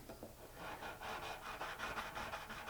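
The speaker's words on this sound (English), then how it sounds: "I have a fret file that's beveled on the inside, and I put some 320 sandpaper, and I just sand the frets" Guitar frets are sanded with 320-grit sandpaper wrapped on an inside-beveled fret file, producing a quiet, rhythmic scratchy rasp of repeated back-and-forth strokes, close and alone.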